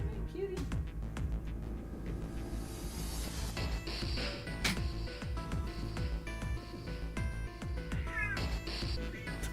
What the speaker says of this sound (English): Look at that cat. She's so loud.